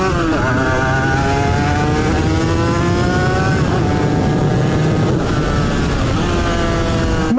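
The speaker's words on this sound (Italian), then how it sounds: "Il suono è da brividi," Suzuki RGV 250 two-stroke motorcycle engine revs hard, its buzzing, rising and falling pitch sweeping up through the gears in a continuous, loud, close-up ride.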